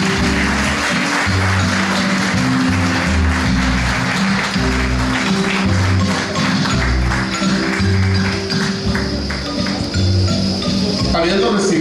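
Audience applause at a poetry award ceremony in Escuintla, Guatemala: sustained loud clapping from a crowd over a steady rhythmic band accompaniment.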